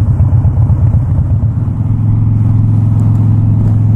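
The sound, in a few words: Harley-Davidson Dyna Wide Glide motorcycle engine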